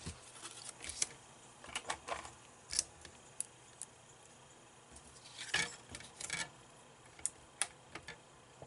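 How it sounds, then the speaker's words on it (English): A Big Shot die-cutting machine running scalloped paper circles through, giving close, irregular clicks and ratcheting ticks with short scraping bursts as the plates pass the rollers. "So we'll get those run through the Big Shot real quick."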